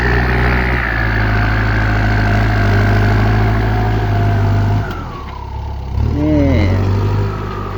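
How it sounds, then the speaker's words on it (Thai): A 70-horsepower farm tractor plows a rice field, its heavy diesel engine droning steadily up close with a brief dip in load before pulling hard again. "รถไถ70แรงพี่น้อง"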